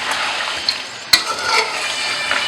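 Mutton karahi with softened tomatoes being stirred in a pan, a steady sizzle with scraping strokes and one sharp clink of the utensil against the metal partway through.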